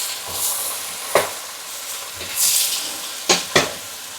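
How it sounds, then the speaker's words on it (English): Fresh mushrooms fry in hot oil, a steady sizzle broken by a few sharp clatters of stirring or tossing in the pan, heard up close without speech. "To the hot oil, we're going to chuck in all of our fresh mushrooms."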